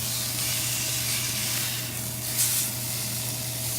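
An inside-out cheeseburger patty with cheese bubbling through sizzles on a grill after being flipped, giving a steady, close frying hiss over a low hum, with no talking.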